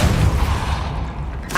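A Depulso force-push spell cast in the video game Hogwarts Legacy, heard as a heavy booming blast with a rumbling low-end burst that swells and decays over under two seconds, loud and close, with a brief sharper hit at the end.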